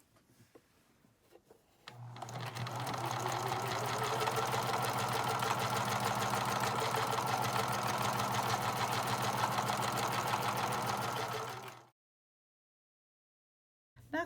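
A home sewing machine stitches a half-inch elastic channel across the bottom of a fabric face mask, a loud steady mechanical whirr running for about ten seconds after a quiet start, then cutting off abruptly into silence.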